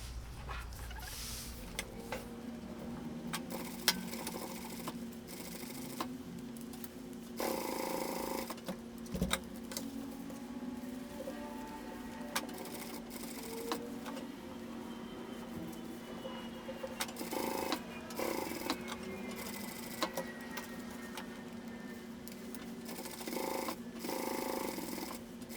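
A domestic sewing machine backstitches across a small pocket on a fabric tote bag, running in short stop-start bursts of steady mechanical whirring with quiet pauses between them, close and moderately loud, with no talking.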